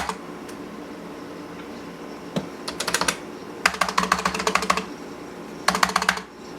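Fingers tap on a Packard Bell computer keyboard, with scattered single keystrokes at first and then quick bursts of close, clicky typing broken by short pauses.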